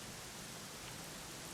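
Steady rain falling in Dragon Quest 11 on PlayStation 4, a dense even hiss of downpour that runs throughout at a low level with no voices.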